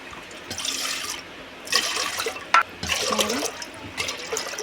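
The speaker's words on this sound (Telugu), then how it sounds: "ఈ గ్లాస్ తోటి ఆరు గ్లాసులు అయితే నీళ్ళు పోస్తున్నా" Water poured glass by glass onto rice in a cooking pot splashes in several separate bursts with short gaps between them, close and fairly loud.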